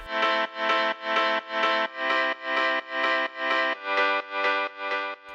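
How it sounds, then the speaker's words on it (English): Piano-like chords struck in short, even stabs, about eleven in a steady rhythm, each cut off quickly, loud and close with no voices. "I added this piano with these shorter notes."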